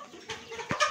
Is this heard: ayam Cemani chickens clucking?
yes